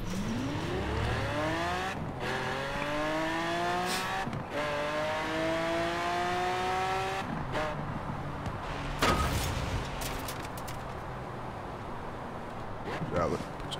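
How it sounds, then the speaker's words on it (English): A Lamborghini Aventador in Forza Horizon 4 drives steadily with an engine tone that rises and falls through its gears. It stays loud the whole way, with a few sharp knocks and tire noises. "I'm driving a Lamborghini"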